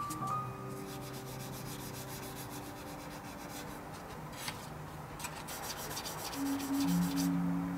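A file rubbing over the plastic body of a Tamiya 1/24 Nissan Skyline 2000GT-R model car coated in black primer, a soft steady scraping that runs without a break, close and fairly quiet.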